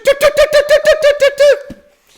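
A man imitates the call of a saw-whet owl with about nine rapid, evenly spaced whistled toots in a mechanical repeating rhythm, loud and close, ending with a short click.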